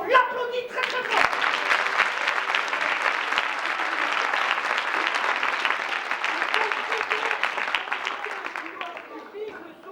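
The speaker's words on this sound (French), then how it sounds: "On l'applaudit très très fort" Audience at a children's theatre weekend show applauds loudly and steadily for about ten seconds, a dense sustained clapping that starts abruptly and tapers slightly at the end, with an adult voice briefly audible over it.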